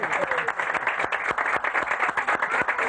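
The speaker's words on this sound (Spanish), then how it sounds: "Un aplauso mundito por eso." An audience gives a round of applause, with clustered, rhythmic claps rising and dipping over a few seconds, fairly close and loud.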